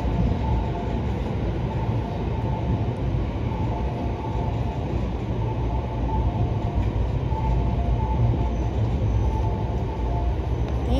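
A Musashino Line train rolls through a station, a continuous rumbling roar of wheels and motors with faint rail clatter and a high whine, steady and close for the whole span, with no voices.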